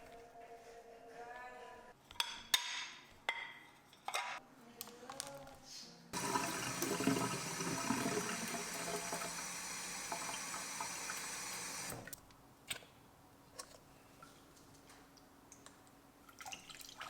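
Warm water runs steadily from a tap to clean a houseplant of mealybugs, a broad continuous splashing rush lasting about six seconds between quieter drips and small handling sounds.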